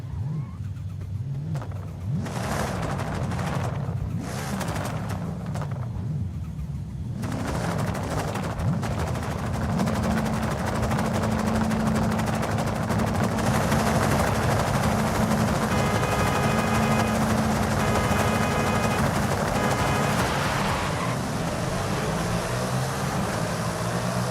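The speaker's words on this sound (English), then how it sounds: "I'm not gonna launch. I'm just gonna mash the throttle and go." Sustained engine roar from a car in Forza Horizon 5, full throttle off the line with no launch control, loud and continuous, rising in pitch as it accelerates, with other engine and tyre noise layered in.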